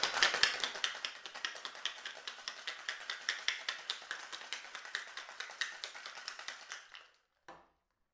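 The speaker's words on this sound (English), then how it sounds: "So I already have ice in the shaker. Just gonna put this in, shake it." A cocktail shaker with ice is shaken hard in a fast, steady rhythm of sharp rattling clacks for about seven seconds, close and alone, then stops.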